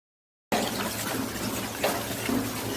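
Cut potatoes are rinsed under running water, making a constant splashing flow that starts abruptly after a short silence and carries on steadily with a few louder swishes.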